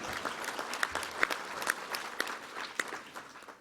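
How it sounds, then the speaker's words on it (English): An audience at a Yad Vashem gathering breaks into applause, a dense field of clapping with sharper individual claps standing out, steady and fairly close. "you can give her a round of applause."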